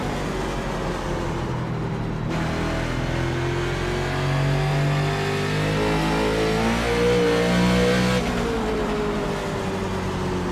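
NASCAR race car engines roar in the iRacing simulator at Irwindale, a steady loud drone of several cars with rising and falling revs and layered engine tones throughout, no voices.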